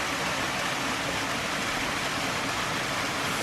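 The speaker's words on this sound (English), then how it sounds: "there's a little waterfall just there" A small waterfall close to a house in New Zealand, a steady broadband rushing hiss of falling water, constant and unbroken, heard alone.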